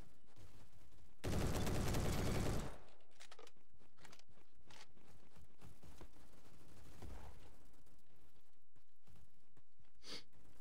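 Rapid gunfire burst with heavy recoil in the online shooter Bad Business, one loud dense volley lasting about a second and a half, followed by quieter scattered game sounds.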